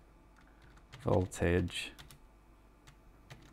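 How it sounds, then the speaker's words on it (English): Typing on a computer keyboard, light close clicks scattered through a short spoken word. "This is how I type."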